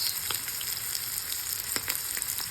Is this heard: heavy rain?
no